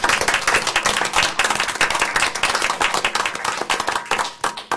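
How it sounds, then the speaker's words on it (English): Dense applause and clapping fill the school board meeting room as the audience cheers a Division I and II partner stunt state championship cheerleading team; steady, loud, continuous hand clapping throughout with faint voices mixed in. "If they can come up and give them a round of applause"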